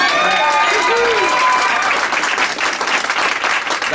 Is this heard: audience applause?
yes